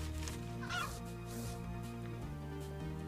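A rideable chicken clucks in The Adventure Pals video game, a brief clucking call near the start over steady game music that runs throughout.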